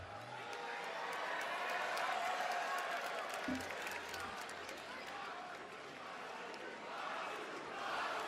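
Dense wrestling arena crowd noise at a WWE SmackDown event, a steady roar of cheering and shouting with scattered claps, filling the whole stretch at constant loudness.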